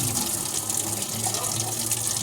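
Water running steadily into a glass in a home kitchen, a continuous close splashing stream at even loudness throughout, no talking.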